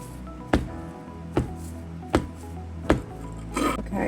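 A silicone mold filled with wet concrete is banged down on a hard surface four times at roughly even intervals, each a short, loud, dull thud, followed by a brief rustling shuffle.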